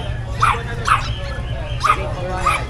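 A female Saint Bernard puppy at an outdoor pet market gives four short, high yips and whimpery barks, spaced apart and close by, over a steady low background hum.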